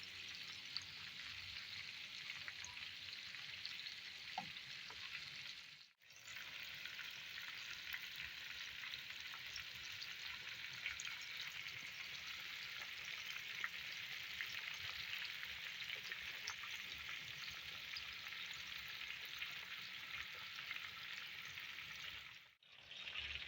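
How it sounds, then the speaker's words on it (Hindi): Chicken broast pieces deep-frying in a pot of hot oil, KFC-style, giving a steady, loud, dense sizzle that runs nearly continuously with two brief drop-outs, no voices present. "बीस से 25 मिनट तक हम इसमें फ्राई करेंगे ऑयल में।"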